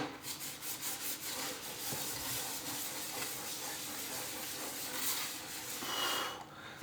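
A gaming mouse dragged across a glass Skypad mousepad gives a continuous gritty scratching and rubbing, close and moderately loud, with uneven back-and-forth strokes and no talking.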